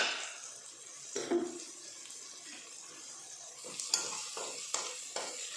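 Maggi noodles being stirred and mixed with salt in a pan, scattered soft scrapes and light knocks over a faint sizzling hiss, quiet and close with no one speaking.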